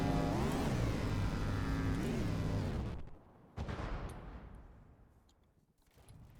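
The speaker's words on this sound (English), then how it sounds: "Something exploded." A loud rumbling blast from a naval battle game, a broad roar that cuts off, then a sharp secondary crack followed by a fading rumble and quieter distant pops.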